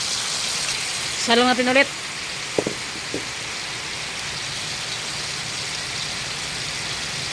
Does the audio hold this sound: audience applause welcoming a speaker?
no